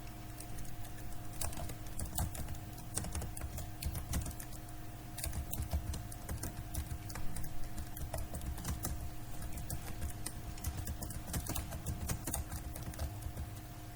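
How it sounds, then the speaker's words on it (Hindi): Steady, quiet keystrokes on a computer keyboard run throughout while a narration is typed into Tally accounting software, the clicks coming in an even, continuous stream over a low hum. "नरेशन लिखकर एंटर करेंगे एवं एक्सेप्ट पर यस में क्लिक करेंगे।"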